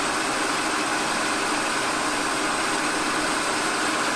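A turret capstan lathe driven through a small Yamaha three-speed motorbike gearbox runs steadily at about 700 revs, giving a constant broadband mechanical whirr and hum with no talk and no change in pitch.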